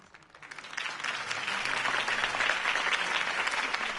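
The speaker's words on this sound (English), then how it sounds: "If only Mr. Wayne, my campaign's largest backer, could have heard that applause" Crowd applause from a video game's campaign rally, building to a steady, dense roar of clapping that holds strong throughout.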